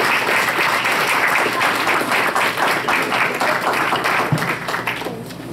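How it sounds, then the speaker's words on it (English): Dense, full applause from an audience at a school board of education meeting, loud and sustained for several seconds before tapering off at the end, with no talking over it. "So if you'll please give him a big round of applause"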